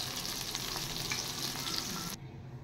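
Eggplant pieces seasoned with salt and turmeric fry in hot oil, a steady bright sizzle with faint crackles that cuts off abruptly near the end, leaving near silence.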